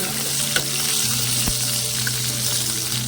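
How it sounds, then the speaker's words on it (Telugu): Green chillies fry in hot oil in a village-style kitchen with a steady, close, crackling sizzle and occasional sharp pops, and no talking. "ఈ పచ్చిమిరపకాయలు వేయించేటప్పుడు కూడా జాగ్రత్త అండి"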